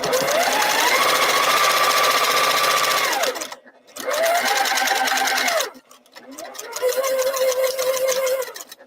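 A long arm quilting machine stitching in three separate runs, each a rapid whirring hum that rises in pitch, holds steady and winds down, with short pauses between and a voice faintly present.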